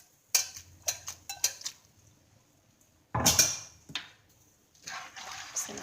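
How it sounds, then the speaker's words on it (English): A utensil scrapes and clatters against a pan of carbonara sauce in short irregular strokes, pausing briefly, then a longer scraping burst follows. "Just going to stir it all around off the bottom first."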